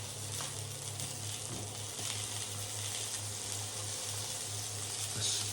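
Sausages fry in a knob of butter in a pan for a full English breakfast, a steady, soft, continuous sizzle with a low hum underneath, close and unbroken.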